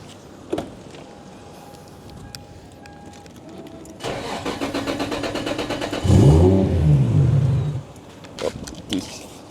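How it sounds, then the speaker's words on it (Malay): A Toyota Supra MK4 cranks briefly, then its engine catches and revs loudly with a deep rumble before settling and cutting off, a few faint clicks around it. "Start kereta, dengar."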